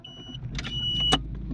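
Interior ambience of a car, with a low steady road rumble under a few brief mechanical clicks and whirs, and one sharp click near the end.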